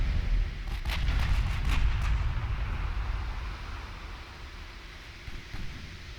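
Naval gunfire from the warship game Ultimate Admiral Dreadnoughts booms heavily. A cluster of rumbling blasts comes early and slowly fades into a low roar, with a lighter distant shot near the end.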